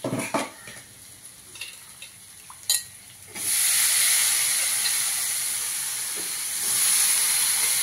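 Cauliflower pieces drop into a hot pan for a cauliflower and potato mixed vegetable dish, a few clinks and taps giving way to a loud, sustained sizzle and hiss that swells again near the end.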